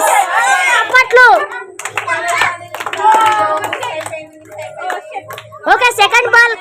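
Scattered hand clapping at a New Year's party ball game, short bursts mixed with lively talk from adults and children close by.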